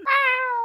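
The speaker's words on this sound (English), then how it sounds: "You can stop meowing." A cat in the video game Minecraft gives one clear, loud, close meow lasting under a second, with no talking over it.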